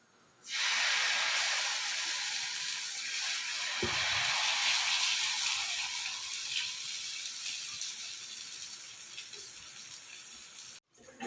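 A steady broadband hiss of tomato sambar simmering in a pot, loud and continuous for several seconds with a brief low thump partway through.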